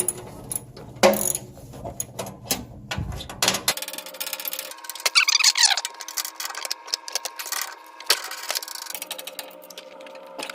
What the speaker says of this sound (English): I'm going to reach back there with the 9/16 socket